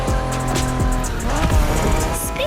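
A 1990s Honda NSX sports car in The Crew Motorfest racing game revs loudly up close, its engine note climbing and shifting through gears with brief tire noise.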